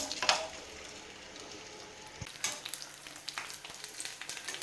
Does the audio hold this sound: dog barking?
no